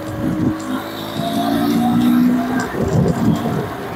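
Motorcycle accelerating along a road past a bus and cars, its engine note rising and holding a strong tone before easing, with wind and traffic noise around it.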